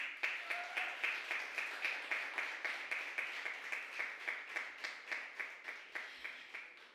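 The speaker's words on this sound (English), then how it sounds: "a round of applause for the contestant with the third place is Delmaro Shannon" Audience applauding a third place winner at a Red Stripe Responsibility Now 2023 event, with a steady wash of clapping at moderate distance and an even rhythm throughout, no talk over it.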